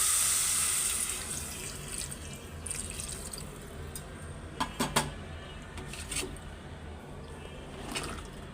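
Water is poured into an eggplant and okra curry with a soft, steady trickle and a few faint splashes, quiet and close.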